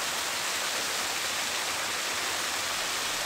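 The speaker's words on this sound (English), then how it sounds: "I soon came upon a flowing waterfall, murmuring behind some torii gates." Steady, dense rushing of a mountain waterfall behind shrine torii gates, a continuous broadband roar with no breaks, close and fairly loud.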